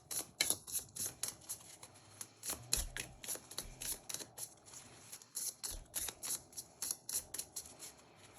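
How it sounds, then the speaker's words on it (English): Playing cards shuffled and drawn during a tarot-style personality reading, heard as a run of quick riffling bursts and soft flicks repeating at a steady pace, close and fairly quiet, with no talking. "let me pull some cards for each of these"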